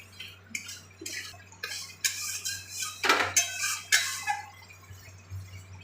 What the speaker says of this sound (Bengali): মশলাটা ভালোভাবে কষিয়ে দিচ্ছি।